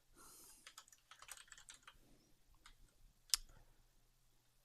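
Keystrokes on a computer keyboard enter a short terminal command, a quick run of light, fairly faint clicks with one sharper tap near the end.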